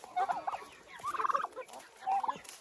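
Several turkeys gobble close by in quick warbling bursts, three distinct calls spaced over a couple of seconds with soft rustling between.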